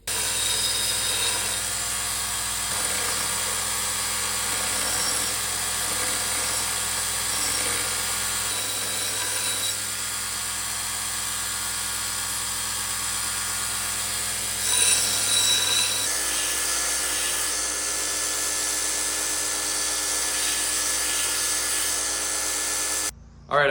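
Hatchet heads being sharpened with a power tool: a steady, loud motor whine with grinding friction running almost continuously, its pitch and load shifting partway through before cutting off at the end.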